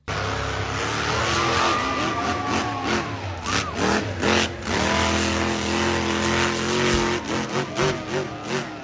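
Monster trucks rev and roar on a beach, engines climbing and falling in pitch through repeated throttle bursts, loud and close with rumbling exhaust and occasional tire noise.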